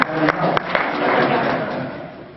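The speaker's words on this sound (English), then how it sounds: "Are you applauding me or Errol Flynn?" Audience at a New Orleans comic con panel applauding, a short burst of clapping mixed with crowd noise and voices.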